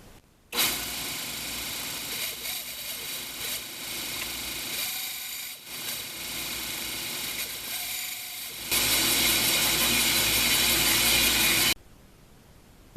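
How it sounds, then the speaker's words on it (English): A bandsaw cuts a curve into the end of a metal piece for new vise jaws, a loud, steady buzzing whine that runs for about eleven seconds, growing harsher and louder toward the end before stopping. "I think I'll go ahead and bandsaw this little curve at the end of this piece on both ends"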